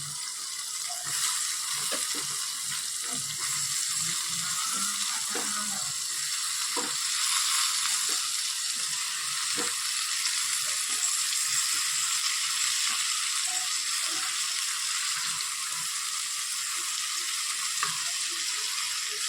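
Cut potatoes fry with spices in a pan, a steady, loud, close sizzle that runs unbroken throughout, with small scattered crackles and faint stirring scrapes and no talking.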